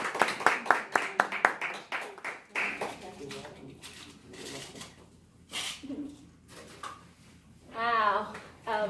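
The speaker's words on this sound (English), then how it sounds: "Let's give her and God a hand clap of praise" At a book signing, an audience gives a quick burst of rhythmic hand clapping, fairly close and crisp, which fades after a couple of seconds as people start talking.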